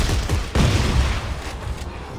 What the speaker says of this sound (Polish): Synchroniczna detonacja.